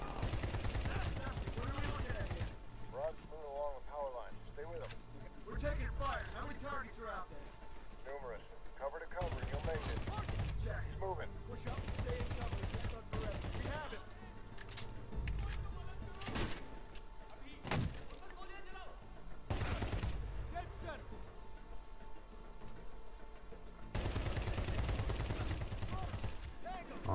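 Video game gunfire in Medal of Honor Warfighter, loud bursts of automatic fire and single shots that come in clusters between quieter stretches with voices talking.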